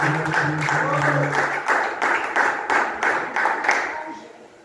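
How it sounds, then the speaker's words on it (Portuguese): Church congregation clapping during a Pentecostal worship service in Goiandira, Brazil: fast, fairly loud rhythmic hand claps from many people, with a sustained tone at the start that fades out. "as palmas louvam e exaltam o nome do Senhor"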